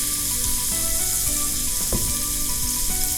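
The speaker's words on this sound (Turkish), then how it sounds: "Etimizi mühürleyeceğiz" A rib-eye steak searing in a preheated pan, giving a loud, steady, dense sizzle with faint tonal hum and a few brief scraping or shifting sounds, no voices.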